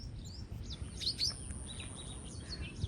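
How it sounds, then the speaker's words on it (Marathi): Birds chirping and tweeting in short, high, bright calls over a steady outdoor background hum near a dam, fairly close, with no talking. "मस्त पक्षी भारी आरडतात"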